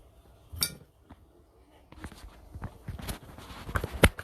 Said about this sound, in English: Let me cut this one in half if I can get it.